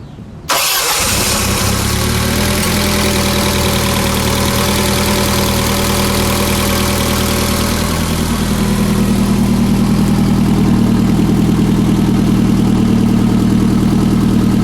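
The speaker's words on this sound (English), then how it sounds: "Let's start her up. We'll get a little idle exhaust note and then we'll give it a little rev." A 1995 Lotus Esprit S4s cranks and fires up loudly after a brief silence, then settles into a steady, throbbing idle exhaust note that continues close and unbroken to the end.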